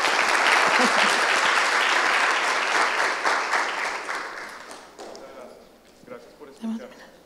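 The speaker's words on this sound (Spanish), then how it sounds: "Le regalamos un aplauso," An audience in a healthcare leadership forum applauds Dr. Henry Gallardo after his interview, with dense sustained clapping that fades out after about five seconds and gives way to faint room noise and a few stray sounds.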